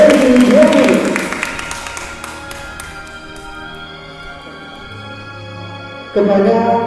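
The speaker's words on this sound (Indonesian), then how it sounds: "boleh dong kita beri tepuk tangan sekali lagi untuk dua berkali Bujang dan Bangka Barat" Applause from the audience at the Bujang Dayang Bangka Barat 2020 grand final pageant, dense clapping at first, thinning and fading over several seconds, with music and a voice returning loudly near the end.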